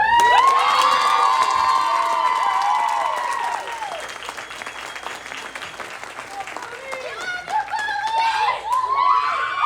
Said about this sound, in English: rise to your feet and cheer her on as she comes up to accept this award